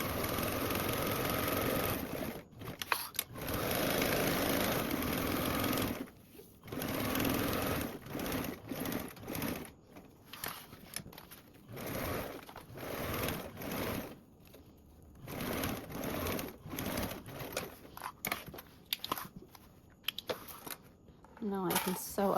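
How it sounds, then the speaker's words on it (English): A sewing machine bastes fabric along a narrow eighth-inch seam allowance for a tote pattern, running in bursts of rapid stitching broken by short pauses, close and steady, with a voice talking over it. "I'm gonna go ahead and baste around this with that 1/8 seam allowance first."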